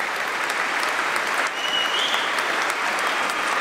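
Loud, dense applause from a concert audience at an orchestra performance, a steady wash of clapping that fills the whole moment without a break.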